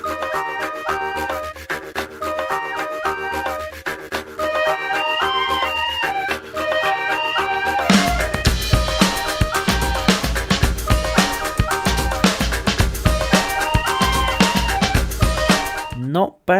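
The original lost song, a full band recording: a busy melodic keyboard and synth part with bass runs for several seconds before drums and fuller instrumentation kick in loudly, ending with an abrupt cutoff and a brief scrape.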